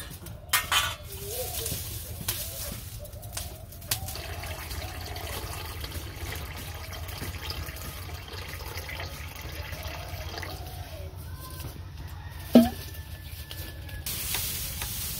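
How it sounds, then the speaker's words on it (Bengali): Water is poured into a hot pot of frying vegetables in a home kitchen, raising a steady sizzle with stirring and scraping throughout and one sharp metallic clink near the end. "জল দিয়ে দিই।"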